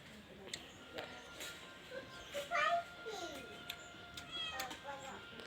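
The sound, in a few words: cat meowing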